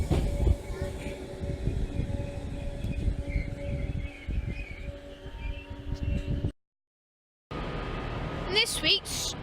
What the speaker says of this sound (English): Merseyrail train bound for Southport, arrives in the northbound platform of Hall Road